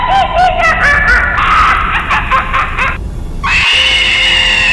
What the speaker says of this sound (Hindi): तभी वह औरत इतना जोर से चिल्लाई कि विवेक अपनी गाड़ी का काबू खो बैठा